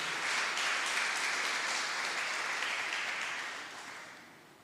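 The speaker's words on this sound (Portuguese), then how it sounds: "Vamos aplaudir o nosso Deus nessa noite?" A congregation claps steadily during an evening church service, producing a dense wash of applause that fades out toward the end.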